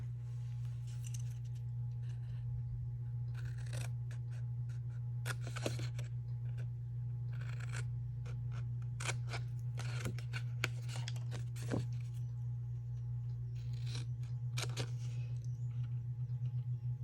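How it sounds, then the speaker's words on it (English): Scissors snip through paper while cutting out small squares for a stationery box organizer, a series of brief crisp cuts and rustles scattered over a steady low hum, fairly close. "I'm going to cut out the small squares."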